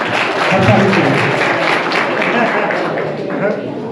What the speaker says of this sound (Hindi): एक बार जोरदार तालियां हंसाली के लिए